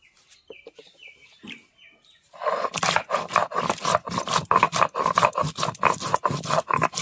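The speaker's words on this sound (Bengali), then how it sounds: "এলাচ, লং, গোলমরিচ, দারচিনি এবার সব একসঙ্গে বেটে নিব।" Spices—cardamom, cloves, black pepper and cinnamon—being ground together on a stone in a village kitchen, starting after a quiet stretch with faint birds, then steady rhythmic scraping strokes, close and fairly loud.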